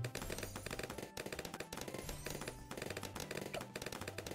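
Sniper monkeys firing in a Bloons tower defense game, producing rapid, dense cracking shots in quick rhythmic bursts, fairly faint and mixed into game sounds.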